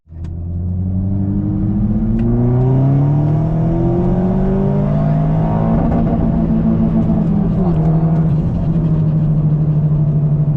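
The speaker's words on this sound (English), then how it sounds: "the VXR sounding like a Type R" Vauxhall Corsa VXR engine revving from inside the car, a loud rumbling drone that rises in pitch and holds steady as it pulls, continuous throughout.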